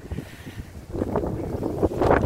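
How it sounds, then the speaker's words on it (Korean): Strong gusts buffet the microphone beside a reservoir, a low rumbling roar that surges louder and steadier from about the midpoint, with rippling water in the background and no talk. "바람이 엄청 많이 불어요."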